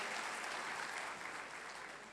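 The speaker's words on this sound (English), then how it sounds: "A big round of applause" Audience applause at an institute members' meet, honouring a Minister of State: steady, dense clapping from a crowd that stays even and sustained throughout, tapering only slightly near the end.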